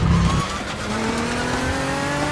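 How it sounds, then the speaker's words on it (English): Car tires squeal and skid in the racing simulator rFactor 2 as the car leaves the rubbered racing line and loses grip. A continuous sliding whine lasts a couple of seconds over a steady engine drone, with no talking. "if you come off the darker rubber line, grip is lost, go straight on, or back end will slide out"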